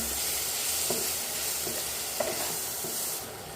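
Black pepper and coriander powder being stirred in a pan for a broccoli dish, with a steady soft sizzle and a few light scraping knocks of the spoon, close and without any voices.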